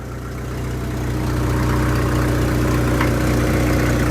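Jeep TJ Wrangler engine idling with an exhaust leak, a steady low rumble and whir that holds even and close throughout, with no talking over it.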